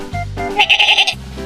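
A sheep bleats once, a loud wavering bleat heard up close and on its own.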